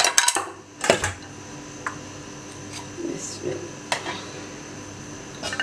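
Vegetables are dropped into a cooking pot for pakoras, giving a few clattering knocks of vessel and utensil near the start followed by softer scattered clinks and scrapes, fairly close in a quiet kitchen.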